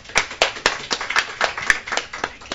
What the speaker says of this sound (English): let's give Ms. Wright a round of applause.